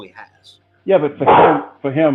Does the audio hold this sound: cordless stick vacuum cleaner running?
no